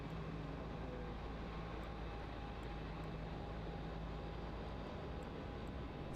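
An airliner lifts off from Melbourne Airport, its engines a steady broad roar heard from a distance, continuous and unbroken with no talking.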